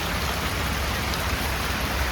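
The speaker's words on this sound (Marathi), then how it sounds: "इतका जोरात चालू आहे पाऊस." Heavy rain pours steadily during the monsoon season near the sea, a dense, continuous hiss of drops close by with no talking.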